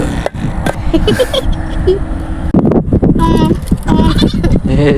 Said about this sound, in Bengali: ছাগল বাচ্চা কাদের ছাগল বাচ্চা রে এখানটায় তোদের?